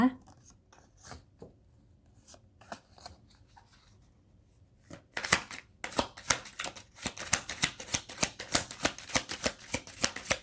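Tarot cards being shuffled during a horoscope card reading: soft scattered card rustles at first, then a dense run of rapid, close riffling snaps filling the second half, with no talk over it.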